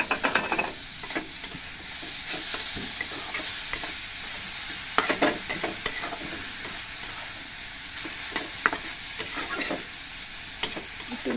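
Vegetable bhaji frying in a pan while being stirred, a steady close sizzle with scraping stirring strokes and occasional louder clatters of the spatula.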